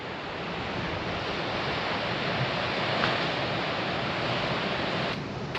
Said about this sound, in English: And the sound of the sea